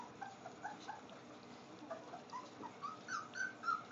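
A bird dog puppy whimpers in a series of soft, high whines that come in short bursts and grow more frequent and insistent toward the end, close by and fairly quiet.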